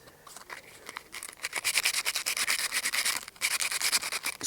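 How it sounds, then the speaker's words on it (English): A wooden chopstick is rubbed with coarse 40 grit sandpaper while being rotated, giving a close, rhythmic scratchy rasp of quick back-and-forth strokes with a brief pause near the end. "And as I'm rubbing it, I'm just rotating the chopstick"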